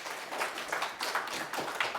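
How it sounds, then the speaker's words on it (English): Audience applause welcoming a speaker at a space generation conference, a dense, steady patter of many hands clapping at moderate volume for a couple of seconds. "please give him a round of applause"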